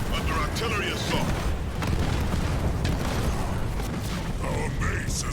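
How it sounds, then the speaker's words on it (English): Heavy artillery barrage in Halo Wars, dense rumbling booms and crackling impacts rolling continuously, layered with in-game voice announcements. "Banshee under artillery assault."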